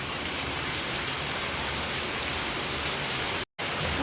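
Heavy first monsoon rain pours down in a steady, dense wash of hiss that stays loud and unbroken throughout, with no voices.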